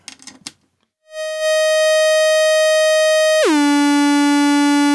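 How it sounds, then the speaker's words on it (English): A brief rustle, then a steady buzzy square-wave tone from a modular synthesizer oscillator with rich harmonics holds loud and alone before dropping sharply in pitch and sustaining. "We've also got oscillator sync, so let's listen to a square wave."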